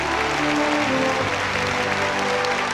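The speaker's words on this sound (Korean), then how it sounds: "전체 참가자들은 열광적인 박수로 환영했습니다" Enthusiastic applause fills a banquet hall in Pyongyang as the participants greet the arriving leaders: dense, steady clapping from many hands that runs without a break and carries no audible speech.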